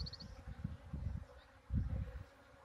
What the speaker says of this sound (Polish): Mnóstwo pszczół.